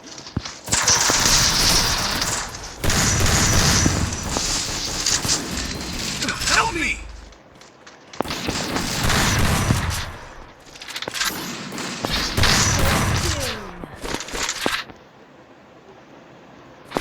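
Pump shotgun fire in a shooting video game comes as repeated loud, harsh blasts in clustered bursts, separated by short quieter gaps.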